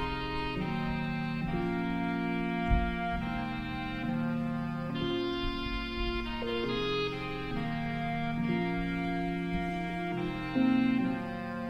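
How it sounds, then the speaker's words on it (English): Saxophone and electric piano playing together in a smooth beat, sustained sax melody over mellow chords with a low bass pulse, continuous and fairly full, with no talking. "Saxophone EP together sounds like this."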